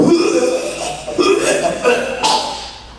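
A voice imitates vomiting with a string of throaty retching and gagging bursts, loud and close.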